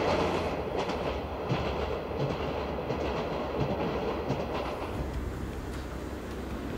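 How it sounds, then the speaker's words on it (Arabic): The Flåm Railway train runs on its tracks through the mountains with a steady, dense rumble and rattle at moderate distance and no clear voices. "يقوم هذا القطار بإحدى أصعب رحلات القطارات في العالم"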